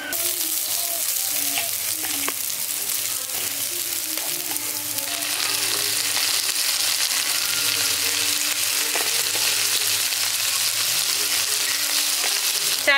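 Soaked, drained rice stirred into fried green peas in a pan for pulao, a continuous close sizzle with scraping and occasional clinks of stirring, growing slightly louder partway through.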